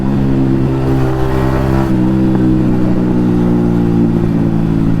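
A Yamaha MT-15 motorcycle with an Akrapovic exhaust drones loudly and steadily up close, its engine note holding a constant throaty pitch with slight shifts, no talk over it.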